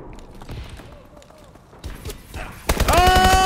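Gunfire in Call of Duty: Advanced Warfare, a few sharp shots and then a loud, dense burst at the end, under game announcer voices.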